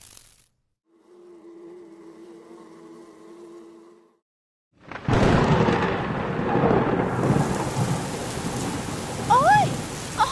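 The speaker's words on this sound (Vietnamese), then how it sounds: "Ôi, ôi, mưa thật các bạn ơi." A cartoon thunderstorm breaks out: a low rumble leads into a sudden loud burst of thunder and then dense, steady rain. Brief bird-like chirps rise over the downpour near the end.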